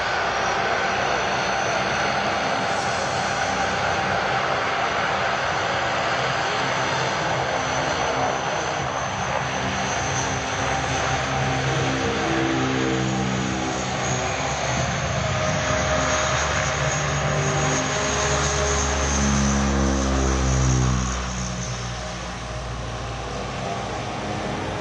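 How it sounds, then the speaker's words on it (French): A Transall military transport aircraft takes off from a grass field at La Ferté-Alais, its turboprop engines roaring loudly and steadily throughout, with the engine tone climbing and shifting toward the end as it accelerates away. "Le décollage était lui aussi en 600 mètres environ"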